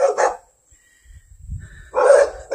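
Big dogs bark twice outdoors in a backyard, two loud separate woofs with a short gap of low rustling between them.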